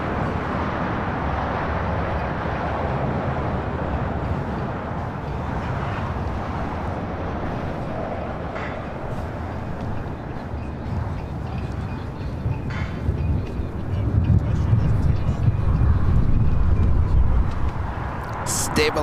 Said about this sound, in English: Now is Singapore Airlines Flight 11 taking off to Tokyo Narita on the